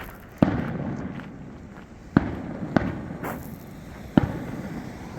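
Fireworks from a town show boom at a distance, heard from a campsite along the Continental Divide Trail: four sharp reports spaced irregularly over a low rumbling background, each followed by a short echoing tail.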